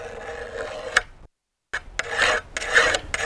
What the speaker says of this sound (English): sharpens up a hoe or a shovel or a kitchen knife really quickly